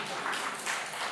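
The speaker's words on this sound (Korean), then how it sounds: "참 박수 한번 쳐주세요." A church congregation at a Sunday worship service applauds steadily, a dense wash of clapping throughout.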